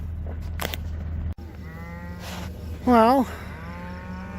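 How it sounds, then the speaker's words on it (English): Cows with heifer calves on summer pasture moo out in the open, one long, clear, wavering low call standing out above steady wind and a brief spoken word earlier. "we got these cows with heifer calves out on summer pasture."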